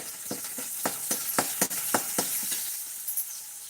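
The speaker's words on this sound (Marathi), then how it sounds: "त्यात हिरव्या मिरच्या टाकायच्या सगळ्या भाजून द्यायच्या" Green chillies roast and sizzle in a hot pan, a steady frying hiss broken by repeated sharp crackles and pops as they are stirred, close and fairly loud with no talking.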